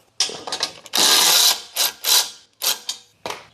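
Loosening bolts on a Badboy Outlaw mower, heard as a series of close, loud metallic ratcheting bursts in irregular rhythm, with no talking.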